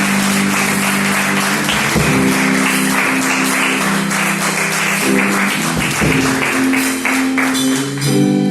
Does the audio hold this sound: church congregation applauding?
yes